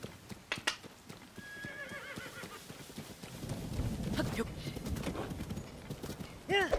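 Horse in the video game Tears of the Kingdom, with quick clip-clop hoofbeats at the start, a rising whinny and neigh, then a busier stretch of galloping hooves and another sharp neigh at the end, with a voice speaking over parts of it.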